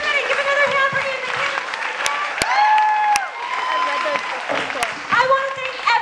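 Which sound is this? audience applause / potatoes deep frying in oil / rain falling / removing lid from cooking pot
audience applause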